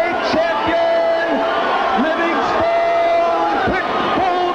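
Stunned boxing crowd at the War Memorial Auditorium in Buffalo, New York reacting to Ray Mancini's 14th-round TKO loss to Livingstone Bramble, a dense, steady arena roar with shouts and whistles rising through it.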